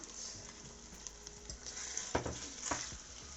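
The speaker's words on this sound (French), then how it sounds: "nous allons y ajouter la sauce tomate" Tomato sauce goes into a sizzling lasagne meat sauce in a pan: a steady close frying hiss with scraping stirs and wet splashes, loudest just after the two-second mark, with no talk.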